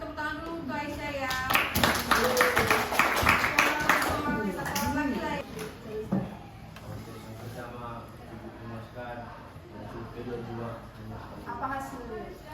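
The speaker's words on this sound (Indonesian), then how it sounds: "Tepuk tangan dulu untuk Aisyah ya." A class claps briefly for a student named Aisyah in a school guidance session. Scattered hand clapping mixes with overlapping voices for a few seconds, then teacher-style talk continues alone.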